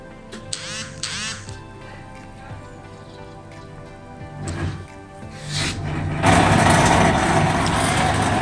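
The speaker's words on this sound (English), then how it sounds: "there's a big noise coming from the drain pump" Washing machine starting its spin cycle with a noisy drain pump: scattered creaks and knocks give way to a loud, steady rushing whir and rattle from the pump, close up.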